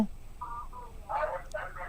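A short series of quiet telephone dialing beeps, a few brief tones in quick succession.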